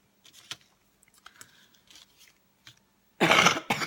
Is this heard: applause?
no